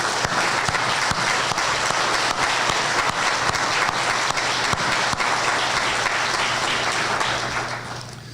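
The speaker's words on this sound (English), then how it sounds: "Please give them a round of applause." Sustained applause from an audience standing at a school district retirement reception, dense steady clapping that fills the room for about eight seconds before tapering off at the end.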